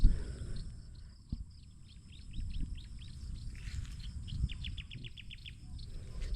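Many birds chirping and tweeting near floodwater that is rising over vegetation, with rapid high calls in bursts over a low rumble of wind or water at moderate distance.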